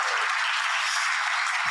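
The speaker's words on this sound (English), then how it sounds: "Yes, round of applause." Audience at a Rotary club meeting applauding, a dense, even wash of clapping heard alone throughout the brief moment.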